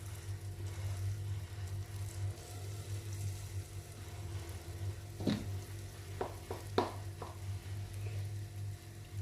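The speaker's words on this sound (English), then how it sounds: "Drop it into our oil. And we want to hear that subtle sizzle." Spoonfuls of Italian sfingi doughnut batter fry in hot oil, giving a soft steady sizzle with a few sharper crackles and pops near the end over a low background hum.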